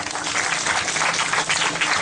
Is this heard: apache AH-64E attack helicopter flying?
no